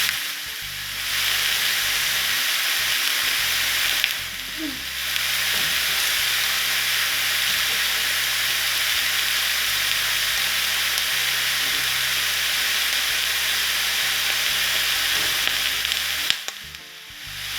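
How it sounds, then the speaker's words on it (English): Fatty minced meat sizzles and fries in a pan, a loud, steady crackling hiss that drops away briefly twice as the pan is stirred or moved, then resumes. "sizzle, yes?"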